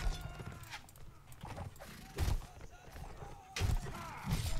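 Horses charging in a Mount & Blade Warband battle in Mordor, with scattered heavy hoof thuds and impacts over a busy game backdrop, fairly faint.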